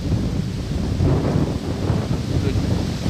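Strong wind buffets the microphone outdoors during a ferreting hunt, a continuous low rumble, gusting slightly louder and softer over a few seconds.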